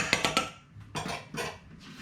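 Potato salad ingredients stirred in a camp cooking pot: a few quick metallic clanks of a utensil against the pot, followed by slower scraping, knocking strokes, close and fairly quiet.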